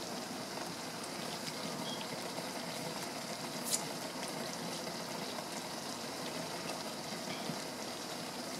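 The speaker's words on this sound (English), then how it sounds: "This has come to a boil and it's ready to go into the jars." A pot of strawberry rhubarb jam at a rolling boil gives a steady, soft, even hiss with faint bubbling ticks. It continues unbroken, with no talk over it.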